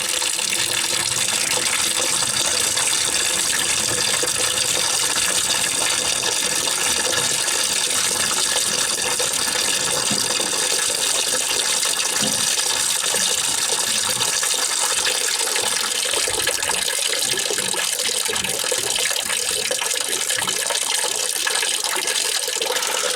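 Water drains steadily from household plumbing while the system is winterized, a continuous broadband rush and gush with faint gurgling near the pipes, loud and unbroken throughout with no talking.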